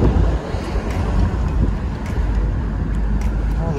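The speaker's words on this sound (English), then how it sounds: "Oh, the wind is so nice." Strong wind buffets the microphone outdoors by the sea near Santa Monica, a loud continuous roaring rumble that never lets up.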